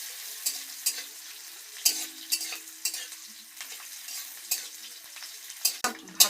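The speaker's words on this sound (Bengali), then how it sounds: "পেঁয়াজটা দিয়ে দিলাম, এবার একটু ভালো করে একটু ভেজে নেবো পেঁয়াজটা।" Chopped onions frying and being stirred in a pan, a steady close sizzle broken by repeated scraping stir strokes, with no voices.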